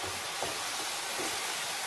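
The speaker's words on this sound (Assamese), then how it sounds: "হালধিটো এতিয়া মই ইয়াতে এই তেলখিনিতে দি দিম এই সুন্দৰকৈ মিহলি কৰি অকণমানকৈ ভাজিম" Turmeric fries in hot oil with chicken pieces in a pan, making a steady, even, broadband sizzle and hiss that lasts throughout at moderate volume, with no voices.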